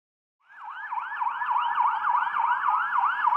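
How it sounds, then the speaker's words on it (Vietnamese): A police car siren blares loud and close, cycling in a fast, steady up-and-down wail that repeats without a break and with no other sounds around it. "Xe cảnh sát."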